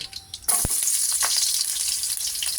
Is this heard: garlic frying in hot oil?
yes